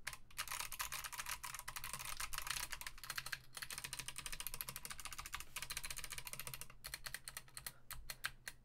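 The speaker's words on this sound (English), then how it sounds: "This keyboard is really loud." Fast typing rattles on a loud mechanical keyboard in long, nearly continuous clattering runs, broken by brief gaps and a few sharper key hits.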